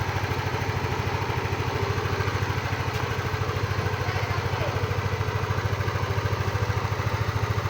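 A freshly repaired motorcycle engine idles steadily nearby, a fast even chugging pulse that holds constant throughout with no revving and no one talking.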